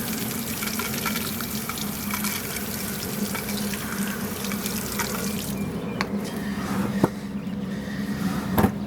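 Running tap water splashes steadily over rock tumbler stones to rinse off slurry, a close continuous rushing flow with a few brief knocks near the end, no talking.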